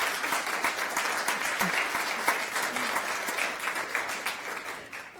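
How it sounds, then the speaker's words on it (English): A room full of people applauds at the close of an Evanston City Council candidate forum for wards 6 and 7: dense, steady clapping that holds evenly throughout and begins to thin toward the end. "Please give a round of applause to these hardworking candidates."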